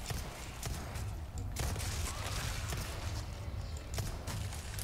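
Gunfire in Resident Evil 4 comes as scattered, sharp shots at irregular intervals, faint and somewhat muffled over a low background rumble.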